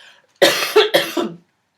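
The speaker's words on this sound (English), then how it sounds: "I've got a cough." A single close cough made of two or three quick harsh bursts, with silence before and after.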